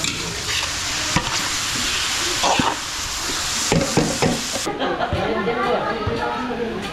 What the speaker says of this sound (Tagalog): palalambutin lang natin giniling na to. Gigisa natin maigi.